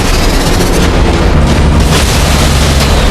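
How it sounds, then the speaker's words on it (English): A dense, continuous barrage of loud booming World War II anti-aircraft gunfire from patrol ships against German aircraft, with heavy rumbling bursts that blur together with no pauses. "German aircraft were met with powerful coordinated anti-aircraft fire from the patrol ships."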